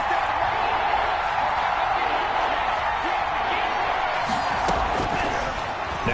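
Steady roar of a stadium crowd at an NFL game between Atlanta and Seattle, building ahead of a big third down, a dense continuous wash of cheering and whoops throughout.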